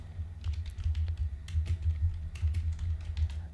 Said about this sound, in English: type in a name for the layout